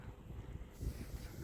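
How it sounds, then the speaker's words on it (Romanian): Wind blowing across a lake during a fishing trip after a cold spell, a faint, low rumbling gust buffeting the microphone, swelling slightly partway through with no talking. "a început să bate și vântul"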